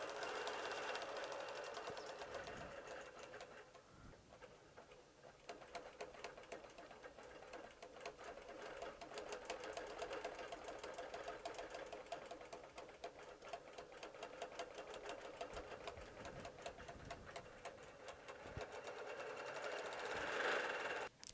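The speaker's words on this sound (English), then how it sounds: "the Bernina Q-Matic software really sews beautifully and really makes those patterns look perfect every single time" Bernina Q-Matic automated quilting sewing machine stitching a quilt block, a steady rapid mechanical whir and clatter that runs continuously at moderate level throughout, with no talking.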